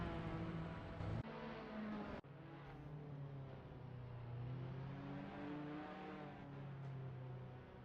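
Race cars circulating at Istanbul Park in the racing game Assetto Corsa, a continuous whirring engine drone with shifting pitch as cars accelerate and rev, one brief cut in the sound partway through, steady and fairly loud throughout.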